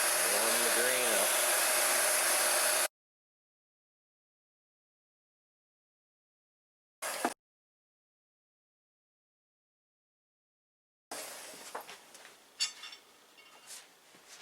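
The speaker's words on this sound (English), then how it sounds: "one thing you can do to pull some more of the cosmetics out of the wood is a heat gun." A heat gun warms the wood of a Lee Enfield No. 4 Mk1 rifle stock, a loud steady blowing roar for about three seconds, then silence, a brief burst, and later scattered handling noises.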